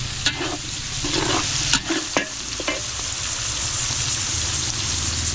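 Kaldereta with carrots, potatoes, garlic and onion is sautéed for a catering job in Pangasinan: a loud, close, steady sizzle broken by several sharp clacks of a stirring utensil.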